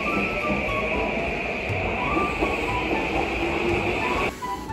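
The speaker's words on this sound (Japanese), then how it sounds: "早く電車に乗らないと。" Train ambience near Yoga Station in Tokyo, a steady loud rumble with a constant high whine running throughout and a sudden drop in level near the end.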